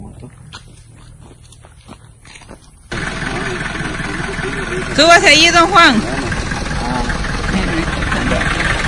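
A motorcycle engine starts on a rural country road and settles into a steady idle, with a sharp revving burst midway, close by, while people talk in Spanish nearby.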